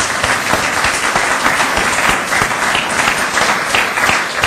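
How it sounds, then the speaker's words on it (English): An audience applauds at a free trade lecture, a dense, steady wash of clapping that holds at full strength for the whole stretch with no talk over it. "Professor Bhagwati, please accept our thanks, our applause, and this bottle of fine Australian wine."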